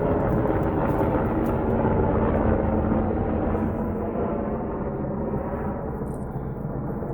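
A steady, loud low rumble of a Black Hawk helicopter passing nearby in New Mexico, broadband and continuous, slowly easing in intensity.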